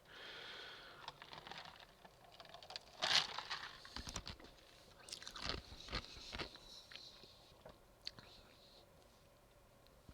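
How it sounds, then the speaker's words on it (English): Someone chewing ice close to the microphone, with a few sharp crunches and bites, a loud crack around the third second, then softer scattered crunching and faint breathy whispering between bites. "a little ice chew in there for you"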